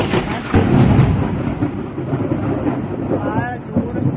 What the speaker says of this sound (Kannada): ಭಾಳ ಜೋರ ಸಿಡಿಲು ಬರತೈತಿ